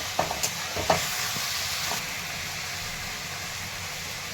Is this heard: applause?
no